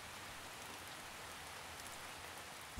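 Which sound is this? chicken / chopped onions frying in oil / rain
rain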